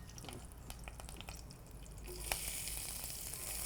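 Curry leaves and chopped onions fry in a pan for an Andhra-style mushroom sesame dish, giving a steady low sizzle with light stirring clicks, loudening toward the end, no voices.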